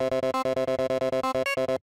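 A Serum software synthesizer plays its Acid wavetable as a fast, even run of about sixteen bright, buzzy, identical synth notes, loud and alone, ending abruptly.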